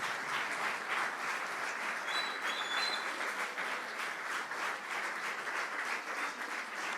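A church congregation applauds during a sermon. The clapping is soft and even and holds steady throughout, sounding somewhat distant, with a faint high tone briefly audible above it.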